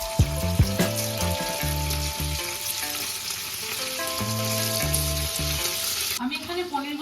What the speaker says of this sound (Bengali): এবার আস্তে আস্তে পনিরগুলোকে এক এক করে ছেড়ে দেবো ভাজার জন্য।